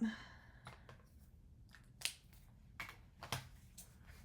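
Scissors snip through quilt fabric pieces in scattered, quiet cuts at irregular intervals, with a few sharper clips standing out against a faint, hushed background.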